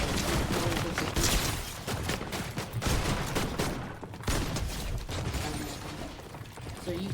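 Rapid, dense gunfire from shooting practice in Fortnite, with bursts of shots fired continuously and loudly for the whole stretch, mixed with clattering mechanical game sounds.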